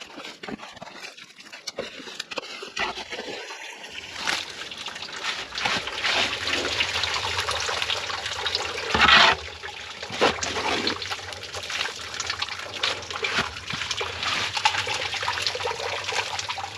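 Rainwater trickles and gurgles steadily down a leaf-clogged drain pit, with occasional louder splashes and rushes over a constant outdoor background.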